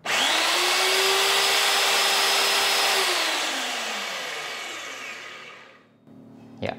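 A BDS MABasic 50 magnetic drill motor switches on with a loud high whine that holds steady, then spins down gradually after a few seconds, ending with a clunk.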